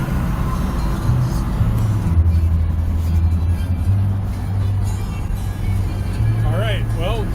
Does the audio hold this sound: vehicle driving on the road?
yes